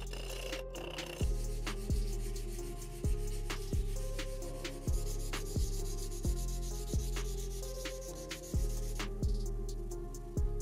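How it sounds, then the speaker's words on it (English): Steady, rhythmic hand sanding of a kitchen knife blade, strokes repeating about every second, close up and fairly quiet, with no talking. "finish out the blade with hand sanding"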